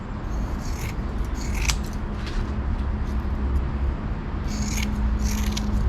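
Scissors snipping a small piece of fiberglass cloth for a rust repair, several crisp cuts in short clusters near the start and end, close and distinct over a steady low background hum.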